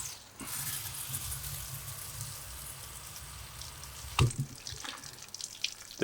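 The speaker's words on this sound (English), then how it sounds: "When you water your trees, water them twice." Water pours and trickles steadily for several seconds as bonsai trees are watered, with a brief bump and splash partway through, no voices.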